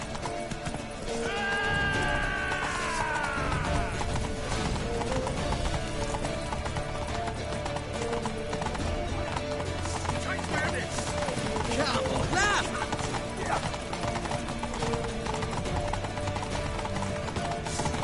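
Galloping horse hooves in The Witcher 3 video game, a continuous clip-clop rhythm under shouting voices and game music, with a whinny early on.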